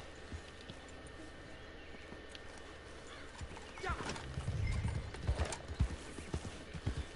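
Video game horse hooves clip-clopping over a low background rumble in Red Dead Redemption Online, picking up and growing louder toward the end, with a faint whinny.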